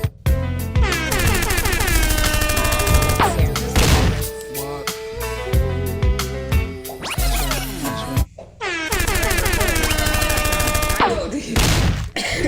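An air horn blasts along with rapid bursts of gunshot sound effects over loud music, dense and continuous with brief gaps before the barrage resumes.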